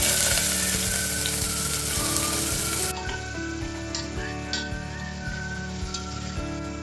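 Bay leaf and onion sizzle steadily in a little hot cooking oil, a loud close frying hiss that drops to a quieter crackle partway through, with small ticks of stirring.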